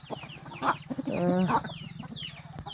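Roosters on a village poultry farm, about seven or eight birds, cluck close by in short, uneven bursts, one call stretching into a louder drawn-out squawk in the middle.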